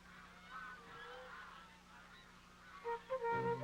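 Greaseless geese, a lean hybrid breed raised by a religious brotherhood, honk in a soft, fairly distant flock murmur that swells into a few louder, close honks near the end.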